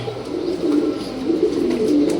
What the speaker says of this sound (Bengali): এটা রয়্যালটিডি কবুতর